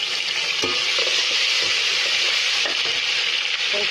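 Garlic and ginger paste frying with garam masala for mutton korma, a loud, steady close-up sizzle with occasional stirring scrapes and no talking.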